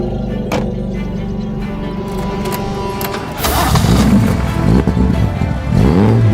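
Nissan GT-R R35 engine revving hard toward 7,000 RPM, a steady mechanical drone that swells sharply louder midway and stays loud with rising and falling pitch sweeps, close and alone without voices.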